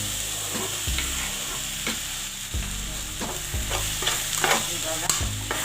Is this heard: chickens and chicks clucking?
no